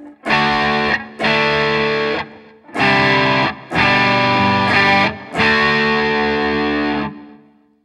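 Monoprice Indio electric guitar on the neck pickup, played clean in five loud strummed chords with short gaps between them, each ringing out before being cut off.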